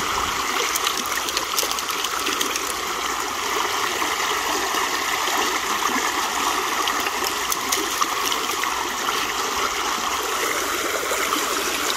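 Water rushes steadily through an old school sluice box, a continuous near, even gurgling flow with no pauses or speech.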